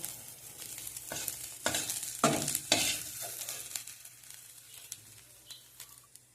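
Titkumari flowers frying in oil in a wok give a steady close sizzle, with stirring scrapes and clatters coming in bursts across the stretch. No voices.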